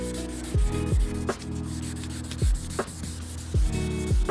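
Rhythmic back-and-forth rubbing of wet sanding on a Porsche Cayman headlight, several close strokes with squeaky sweeps, steady and fairly loud, no talking.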